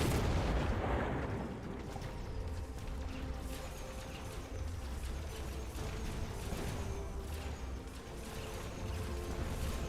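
A loud missile explosion in an online mecha video game, a heavy boom at the start that gives way to a continuous rumbling roar of mechanical combat noise.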